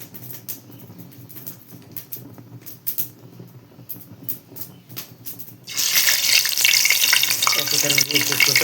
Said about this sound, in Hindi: तो ये डाला है मैंने कढ़ाई में फ्राई करने के लिए तेल।